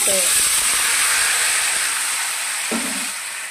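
Poppy seed paste cooks in a pan with a steady, loud hiss and sizzle that holds across the whole stretch, with a few faint knocks underneath.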